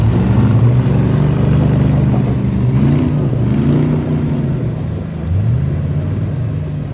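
A Jeep engine revs and strains while climbing a hill on a kinetic rope during an off-road climb in Johnson Valley, a loud steady rumble with rising and falling revs throughout.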